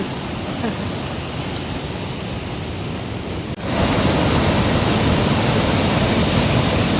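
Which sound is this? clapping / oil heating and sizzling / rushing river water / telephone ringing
rushing river water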